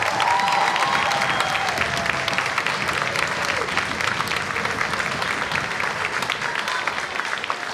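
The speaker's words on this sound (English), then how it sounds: "how about one last round of applause for all these student musicians up here tonight" A large audience at a student band and orchestra concert claps steadily and loudly throughout, a dense sustained applause with a few faint cheers mixed in.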